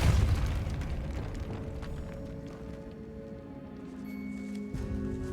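A Depulso spell blast in Hogwarts Legacy lands as a heavy booming impact with a deep rumbling tail, loud and near, over a sustained tonal game score.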